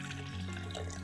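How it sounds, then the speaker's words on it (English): Water and alcohol mixture poured steadily into a measuring cup for refilling a Raggedy Ann and Andy snow globe, a continuous close liquid trickle with no talking. "I'm gonna pour it into this measuring cup here"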